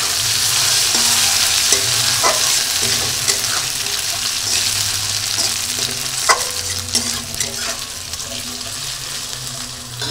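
Potatoes frying in a pan for a soybean and egg curry, a steady loud sizzle throughout with scattered clinks and stirring scrapes, no talk.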